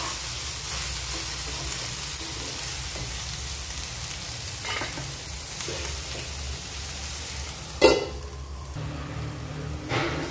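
Okra and tomato sabzi sizzles steadily in a pan on the stove, a constant close frying hiss with a couple of brief clinks of stirring near the end.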